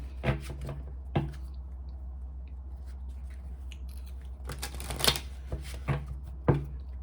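Tarot cards shuffled in a quiet room, a run of crisp riffling bursts and soft card taps, a few separate slaps early on, then a denser cluster of shuffles later, close and clear with no talk.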